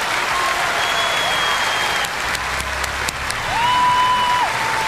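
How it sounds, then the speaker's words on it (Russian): Continuous applause from a concert audience at a 2018 Sochi performance, loud and dense clapping filling the hall, with brief tonal sounds and a few sharp knocks over it. "Аплодисменты!"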